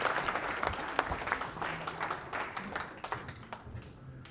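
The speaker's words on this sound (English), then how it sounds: "Everyone will give you a big round of applause as you come up on stage" A conference audience of engineers at a corporate magic show applauds as a volunteer comes up on stage, a fairly faint, scattered crowd clapping with distinct sharp claps that slowly taper off.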